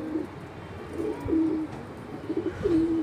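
Pigeons coo repeatedly at a home loft while the flock is out flying, with several soft, close calls spread across the moment and no talking.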